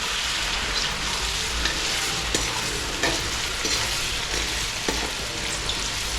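Red chili powder and ginger-chili-garlic paste stir-fried in oil over a low flame for Gujarati undhiyu, a dense continuous sizzle with scraping stirs and light clicks of the spoon, close up and without speech.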